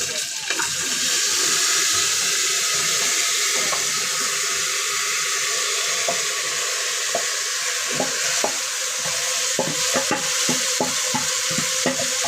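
Marinated meat and potatoes poured into a hot pan, a loud steady sizzle with a spatula scraping and clicking against the pan through the later part.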